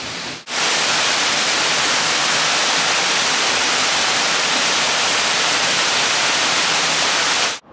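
A waterfall feature at an outdoor evening light installation in an arboretum gives a steady, loud, broadband rush of falling water that starts abruptly and holds evenly for several seconds before cutting off.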